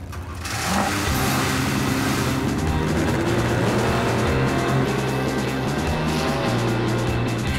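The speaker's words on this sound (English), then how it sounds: "Gentlemen and ladies, start your engines." Car engines start and rev loudly and continuously, a dense rumbling roar that builds after a brief quiet opening and holds steady with rising and falling revs, likely mixed with music.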